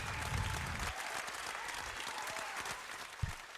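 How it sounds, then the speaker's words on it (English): A round of applause in a studio during a talk-show conversation, a short burst of clapping that fades as people talk over it. "Yo, it's Libra season, man. Round of applause."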